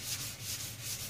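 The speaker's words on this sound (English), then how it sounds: "wet sanding this down is just going to take the," Primer on the fiberglass front body of a Club Car DS golf cart is being wet sanded by hand, giving a steady, rhythmic rubbing hiss in repeated close strokes with no talk.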